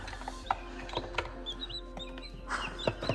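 Baby chicks under a brooder peep and cluck in soft, scattered bursts, with brief chirps rising here and there over a low steady hum, close by and fairly quiet.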